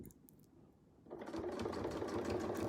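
A sewing machine stitching fabric right off the edge of the piece: near-silence for about a second, then a steady, close motor whir with rapid needle chatter running to the end, with no talk.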